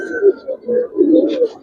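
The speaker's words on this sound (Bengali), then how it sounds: "ফার্স্ট ক্লাস কবুতর।" Young Giribaz pigeons cooing in short, low, throaty bursts, several soft coos in quick succession close to the listener, with no talking over them.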